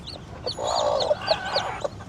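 Hens cluck close by in a short run of throaty, repeated calls, several distinct clucks spaced through about two seconds over a quiet background.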